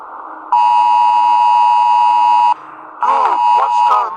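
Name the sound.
alarm system beeping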